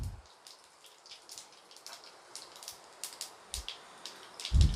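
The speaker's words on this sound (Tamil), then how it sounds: "வந்து எண்ணெய் விட்டுங்க, கொஞ்சம் காயவும், கொஞ்சம் கடுகு சீரகம் போட்டுங்க." Mustard and cumin seeds splutter in hot oil in a pan for a Tamil mango pachadi, giving faint, scattered crackles and tiny pops with a couple of duller knocks near the end.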